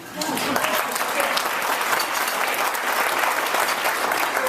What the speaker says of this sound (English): So through applause, tell me if you are an Edmonton Oilers fan